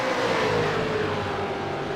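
V8 touring race cars accelerate hard around the Phillip Island circuit, a steady droning engine roar with rising pitch, loud and continuous with no voices.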